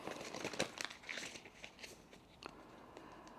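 Tarot cards are shuffled up close, giving soft crinkly riffling bursts that fade to quieter rustles, with no talking.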